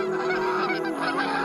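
Geese honking loudly and close, a steady run of nasal, overlapping calls from the flock with no pauses and no talking.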